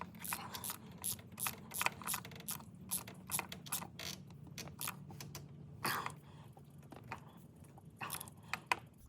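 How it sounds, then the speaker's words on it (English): A small hand ratchet clicks in quick bursts while tightening a plug on a Cummins engine during a riser reroute kit install; close, fairly quiet clicking over a low steady hum, irregular strokes with pauses. "And I know I'm not over torquing it with this little ratchet"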